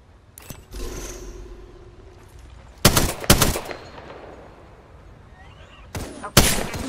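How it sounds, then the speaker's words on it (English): Gunfire in the Apex Legends battle royale game: bursts of shots at the start, a sustained rumble, then two clusters of loud sharp reports near the middle and another pair at the end, with no talking. "Okay, getting shot at."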